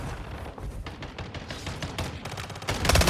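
Rapid bursts of gunfire in Warzone Mobile, a shotgun blast among them, crackle close and loud in dense overlapping volleys that build to a heavier barrage at the end.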